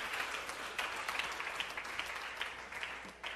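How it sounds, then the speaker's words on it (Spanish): A church congregation applauds together, a sustained wash of many hands clapping at steady volume for several seconds, with no voices clearly heard above it. "Pero vamos a regalar un aplauso al Señor"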